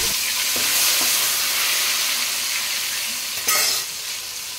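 Potatoes fry in hot oil in a home kitchen, giving a loud, steady sizzle with a brief stirring clatter partway through and no voices.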